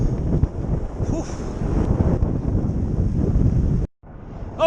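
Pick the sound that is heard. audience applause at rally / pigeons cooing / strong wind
strong wind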